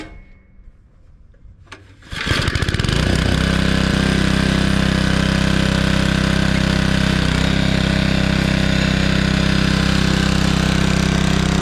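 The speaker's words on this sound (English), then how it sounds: "I'm just gonna do some tilling and try to get my beds ready to plant." A forward tine garden tiller's small engine starts after some quiet handling noises, then runs at a loud, steady, close drone.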